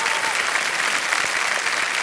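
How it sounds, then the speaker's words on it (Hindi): Studio audience on the KBC quiz show breaking into applause, a dense, steady burst of clapping from many hands that holds evenly throughout, close and loud with no talk over it. "एक बार फिर जोरदार तालियां आ जाए"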